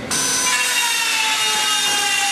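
Wood being worked by hand in a school woodshop class, a student's stool project: a steady, loud, continuous abrasive rasp that runs unbroken throughout, with no voices.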